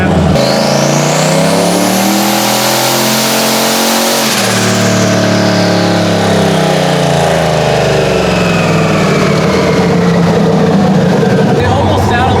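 A newly installed car engine with a hydraulic roller cam, in a registered street car fitted with new spark plugs, revs hard up and back down, loud and close, with a possible slight waver in the sustained rpm.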